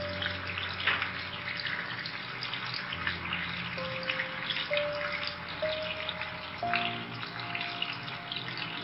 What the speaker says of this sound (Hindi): देखिए नीचे इसकी लेयर फ्राई होना शुरू हो चुकी है